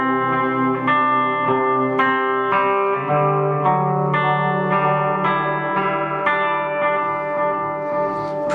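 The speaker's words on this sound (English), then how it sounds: "So now we have a little bit of spring reverb added in." An electric guitar played through a Boss MS-3 multi-effects unit with spring reverb added, its notes and chords ringing out loud and sustained, one after another, with a wash of reverb trailing each strike.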